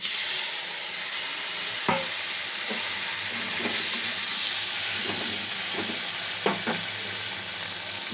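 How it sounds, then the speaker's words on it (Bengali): Pre-fried stems, potato and eggplant go into cooked masala and sizzle with a steady bright hiss, punctuated by a few clinks and scrapes of a spoon against the pan, close and continuous, no voices. "মশলা কষা হয়ে গিয়েছে আবার এর মধ্যে দিয়ে দেব ভেজে রাখা ডাঁটা আলু বেগুন"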